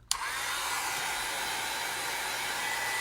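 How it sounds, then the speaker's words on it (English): A heat tool blowing on craft paste in a DIY decor project, a steady, loud whooshing hum that starts abruptly and runs unbroken, close by, with no talking. "I'm going to speed up the drying process just a little bit. I'm using a heat tool."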